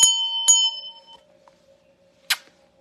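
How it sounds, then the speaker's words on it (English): Small kiss bell rung twice in quick succession with bright ringing tones that decay, then a sharper single metallic ding after a pause, close and clear in a quiet room. "Look, I have the kiss bell."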